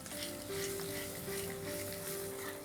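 Hot smoked mustard oil hissing and sizzling as it is poured into a paneer tikka marinade, a short close crackle over a faint tonal hum.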